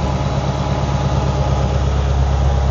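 A Mitsubishi 4G63 DOHC engine idling, a loud, steady low rumble with an even vibrating pulse, close up and without talking.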